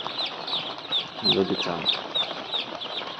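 Chickens on a poultry farm cluck repeatedly and flap their wings, with a brief burst of flapping midway. A voice speaks over the birds.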